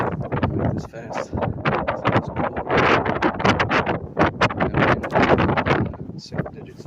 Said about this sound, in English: Man, that wind is cold.